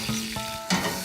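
Browned beef bangers sizzling in a pan, a close steady hiss with a couple of clunks and a sharp scrape as the sausages are moved, no talking.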